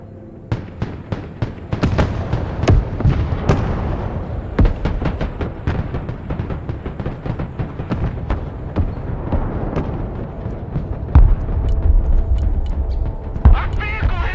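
Loud, dense barrage of explosions and blasts pounding a combat vehicle in the Broken Arrow video game, irregular booms and cracks crowding together over a constant rumble, with faint radio voices mixed underneath.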